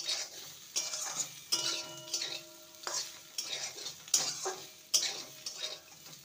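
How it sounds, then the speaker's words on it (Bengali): Potato and bitter gourd being stir-fried with chili flakes in a pan, soft sizzle under repeated scraping strokes of a spatula at a steady rhythm, close and fairly quiet. "চিলি ফ্লেক্স দিয়ে মিনিট খানেক ভেজে নিয়েছি"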